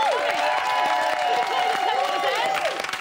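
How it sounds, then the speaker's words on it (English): Studio audience at a Big Brother UK spin-off show clapping and cheering in a dense, continuous burst, with a presenter's voice carrying over the crowd. "Give her a massive round of applause,"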